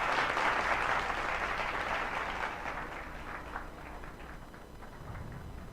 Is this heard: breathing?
no